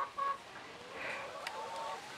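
Native cross chickens on a farm after a typhoon give faint, soft clucks over a steady rushing outdoor background, distant and quiet throughout.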